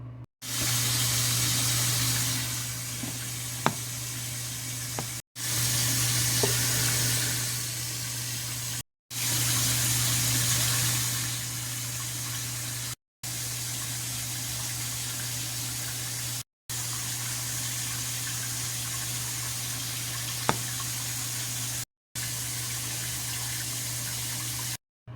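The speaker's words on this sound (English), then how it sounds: "I'm gonna wash this shit off my face now." Tap water runs steadily in broad, hissing bursts while a face mask is being rinsed off, each long stretch of flow broken by brief silent gaps, with a few faint clinks along the way.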